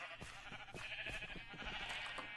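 A flock of Minecraft sheep on a purple sheep farm bleats in a steady, wavering chorus, with a few soft footstep-like taps under the close, continuous cries.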